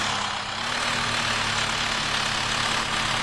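A small auto rickshaw engine idles in a steady, low putter in a 3D driving video game, with an unchanging hum and no speech.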